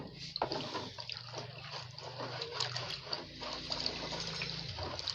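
Homemade bleach solution is stirred in water, producing a continuous swishing, sloshing liquid churn with small splashes, steady and close throughout.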